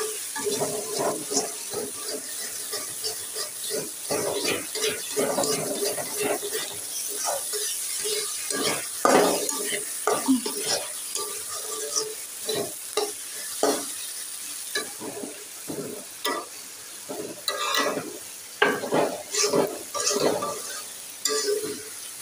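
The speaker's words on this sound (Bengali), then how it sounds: "ঝিঙে দিয়ে আর ভেন্ডি দিয়ে ভাজি হচ্ছে এখানে।" Ridge gourd and okra bhaji frying in a pan, with steady crackling sizzle and repeated scraping stirs of a utensil against the pan throughout, close and fairly loud, no talking.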